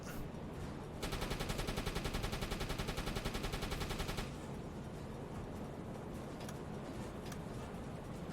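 Machine gun fire in the submarine game UBOAT rattles as a rapid, evenly spaced burst lasting about three seconds over steady engine and sea rumble, followed by a few scattered distant shots.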